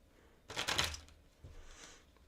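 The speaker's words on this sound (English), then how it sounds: "I can shuffle these cards because it doesn't matter if they go upside down" Tarot cards are shuffled by hand in a short, faint burst of papery riffling and flicking, then a softer rustle, close by in a quiet room with no talk.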